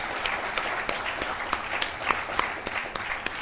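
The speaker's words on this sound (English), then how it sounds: "a very big round of applause for the volunteers who are the backbone of any yagna" Applause for volunteers at a spiritual talk: a dense, steady patter of many hands clapping, with sharper individual claps standing out at regular intervals and no voices.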